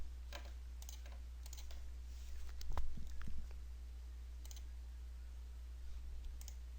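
A computer mouse gives a few soft, scattered clicks, including a right-click, while working in CAD part-modeling software, quiet over a constant low background hum.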